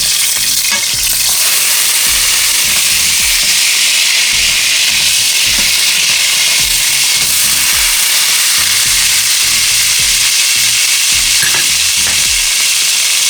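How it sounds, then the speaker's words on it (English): Salmon pesto patties fry in a pan after being flipped, giving a loud, constant sizzle and crackle with occasional soft spatula scrapes and no talking. "now you're going to carefully flip your two patties over here."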